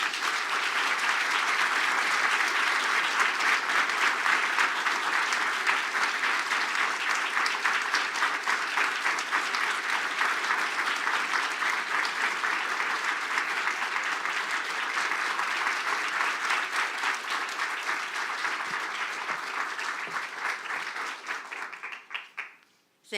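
A large audience gives sustained, even applause to welcome Treasury Secretary Janet Yellen before her remarks on the U.S.-China economic relationship, steady and dense for over twenty seconds before tapering off abruptly at the end.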